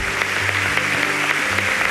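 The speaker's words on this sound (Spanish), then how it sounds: "Un aplauso le damos al Señor." A church congregation applauds together in dense, steady clapping that holds its level through the whole moment, with faint voices underneath.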